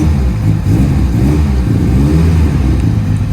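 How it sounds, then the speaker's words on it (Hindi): A Mitsubishi Evo 7 rated at 850 hp roars close by, its engine revving hard and steadily for a few seconds with a loud, continuous mechanical drone and no voices. "ये जी आप गाड़ी की स्टार्ट पे आवाज़ चेक कर सकते हैं, पता चल रहा है ना 850 HP गाड़ी है।"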